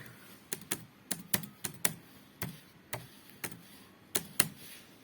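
Keys clack on a computer keyboard as a short file name is typed, a quick irregular run of close, crisp taps in a quiet room.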